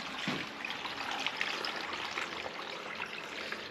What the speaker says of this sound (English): We're going to pour the water